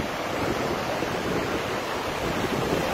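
Sea waves wash onto the shore in Fasnia, where brown, polluted runoff from a ravine flows into the sea; a steady, loud, close roar of surf and wind with no voices.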